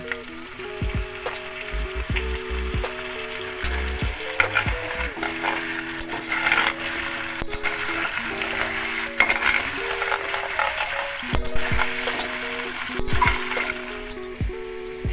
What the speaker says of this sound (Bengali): এতে একটু টমেটো সেদ্ধ বাটা দিলাম।